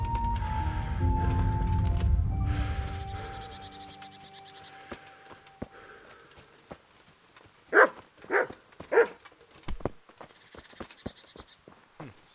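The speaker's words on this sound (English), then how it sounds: "Sounded like I just kicked that dog." A dog in Kingdom Come: Deliverance whimpers after being kicked, giving several short, sharp yelps and cries in the latter half after a low rumbling stretch, fairly close and without speech.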